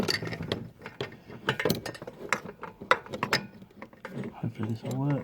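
A ratchet turns a 30mm deep socket on a rear exhaust manifold bolt of a Ford Mondeo MK3, giving a run of close, sharp metallic clicks and clinks in uneven bursts, with a voice talking in between.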